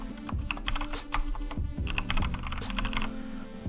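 Rapid typing on a computer keyboard, with close, steady, irregular key clicks and clatter running the whole time and no one speaking.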